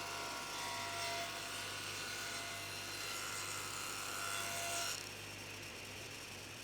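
Steady rasping and scraping of a hand tool cutting a small rebate around the edge of a wooden hollow-body guitar made from scrap wood, continuous for about five seconds before easing off.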